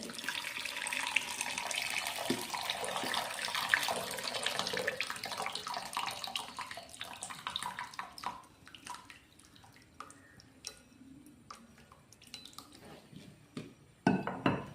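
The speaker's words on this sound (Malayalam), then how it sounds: "ഞാൻ ഈ അടുപ്പ് വെച്ച് വെള്ളം വാർക്കുവാണ്" Water being drained from a pot of boiled cassava set on a stove, a continuous loud gushing and splashing that gradually thins to intermittent trickles and drips, with a final clatter of the pot.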